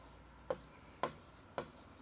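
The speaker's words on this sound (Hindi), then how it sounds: "तो मैं सिर्फ इतना ही लिखता हूँ कि मनीष" Three short, evenly spaced strokes of writing on a board, quiet and close against a faint room hum.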